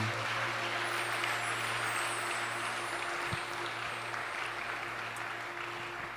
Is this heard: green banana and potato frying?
no